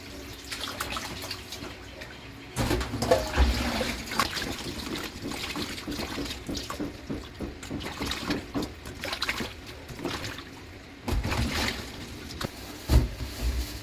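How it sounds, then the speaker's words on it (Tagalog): Running tap water and splashing as milkfish is washed in a kitchen sink before cooking, with trickling, dribbling flow and bursts of heavier splashing and handling sounds throughout, no talking. "huhugasan naman natin yung isda kasi magluluto na tayo."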